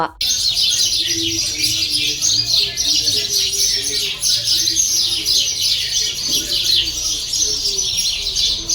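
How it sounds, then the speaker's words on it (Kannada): Dense, continuous chirping of many sparrows and other birds in a garden habitat in Kanakapura, a steady bright chatter filling the whole stretch with a faint low hum beneath. "ಮನಸ್ಸಿಗೆ ಮುದ ನೀಡುತ್ತವೆ ಈ ಪಕ್ಷಿಗಳ ಕಲರವ"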